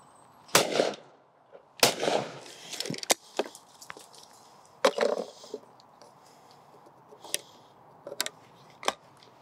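Side-by-side shotgun firing cartridges outdoors, several sharp reports spaced irregularly across the stretch, some loud and close, others fainter, each with a brief ringing tail.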